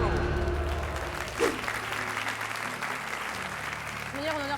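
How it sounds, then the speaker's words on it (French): Light, moderate applause rises from a studio audience on a French game show. The steady clapping runs the whole time under some voices and a bit of background noise. "C'est des petits applaudissements moyens"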